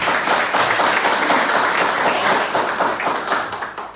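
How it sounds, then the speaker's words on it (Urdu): Church congregation clapping together during a pastor's sermon on tithing, a dense, steady wash of many hands lasting throughout, fairly loud and close, fading slightly at the end. "تالیاں بجاؤ جناب."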